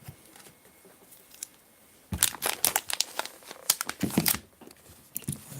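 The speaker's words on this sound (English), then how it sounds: "Safety scissors." Safety scissors snip and tear through a crinkly plastic trading card pack wrapper, a close, loud burst of crisp crackling and cutting that starts after a quiet moment and goes on in irregular bursts.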